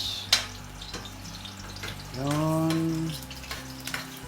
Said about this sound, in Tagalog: Mainit ang mantika. So, lagyan na natin ating sibuyas. Yan. Gigisa muna tayo.